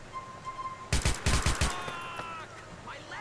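Gunfire in a GTA IV zombie mod with LCPDFR SWAT police, a short burst of several loud rapid shots close by, then a fading tail with a brief voice.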